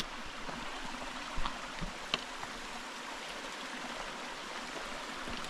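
Steady rushing of a stream flowing over rocks, continuous and fairly close, with a couple of faint knocks and splashes breaking through.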